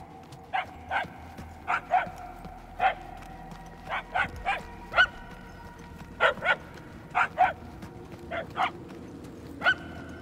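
Creatures in the video game Marvel's Guardians of the Galaxy let out short, sharp yelping cries, repeated about eighteen times at irregular intervals over steady low background noise, fairly close and distinct.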